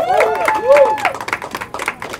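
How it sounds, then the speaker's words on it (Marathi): Audience claps and cheers at a launch event for a song from the Marathi film Fussclass Dabhade: brisk, dense clapping from a nearby crowd, with rising whoops or whistles and voices mixed in over the first second. "यांच्यासाठी जरा जोरदार टाळ्या होऊन जाऊ द्या."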